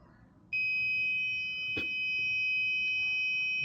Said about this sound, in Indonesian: lampu LED dan buzzer dapat bekerja dengan baik